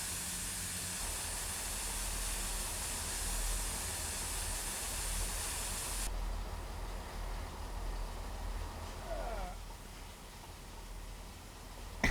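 A train passes on the other track of a four-line run from Reading into London Paddington in Train Simulator, a broad rushing hiss that holds steady, then cuts off abruptly and leaves a quieter rumble.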